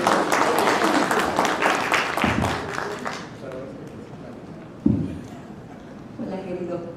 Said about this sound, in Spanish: Aplausos para que te sientas.